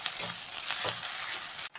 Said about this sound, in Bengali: যতক্ষণ না আদা রসুনের কাঁচা গন্ধটা যাচ্ছে ভালো করে ভেজে নিতে হবে